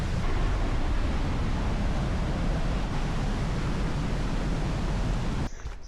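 A distant waterfall on a bush track gives off a constant, broadband rumble, a steady roaring wash that holds level throughout and drops off abruptly right at the end.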